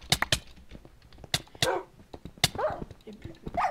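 Repeated yapping barks and whimpering yips from a dog in Minecraft Bedwars, scattered clusters of sharp close barks with whiny pitched tones in between.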